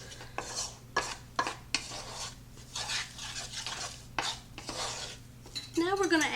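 Dried rosemary, sage and parsley are stirred together in a bowl, giving soft scraping and clinking of a spoon in uneven bursts, fairly quiet and close, with no talking.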